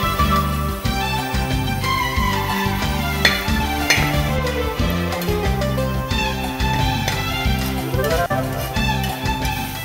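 Onions with salt sautéing in a pan for samosa filling, a steady close sizzle with repeated stirring and scraping throughout and no talking.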